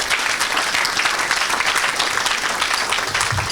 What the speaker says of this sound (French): Tu peux acclamer pour ça